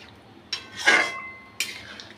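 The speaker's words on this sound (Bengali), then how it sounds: "এবার একটু একটু মিশিয়ে নেব" Corn chicken is mixed in a pan, with a few close metallic clinks and a scrape of a utensil against the pan over a quiet background.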